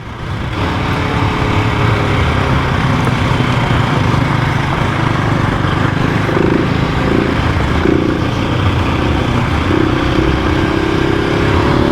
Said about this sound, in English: I'm just following Dave and I'm driving through every hole.